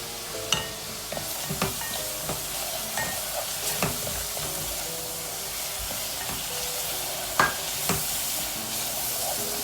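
Masala frying on medium heat in a pan, a steady sizzle under repeated clinks and scrapes of a spoon stirring against the metal, close and continuous.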